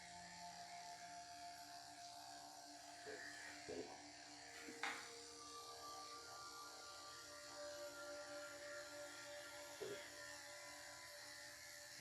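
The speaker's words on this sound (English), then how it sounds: "I'll lift the foot to actually shave down the foot and the bottom section of the leg." Electric clippers buzz steadily at low volume while shaving the foot and lower leg of a Yorkshire terrier during a full groom, a continuous close hum broken by a few brief clicks and knocks.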